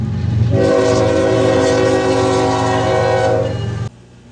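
Freight train Q217 sounds a long, loud, multi-tone K5HL air horn while passing nearby, the blast holding for over three seconds over rumbling wheels before cutting off.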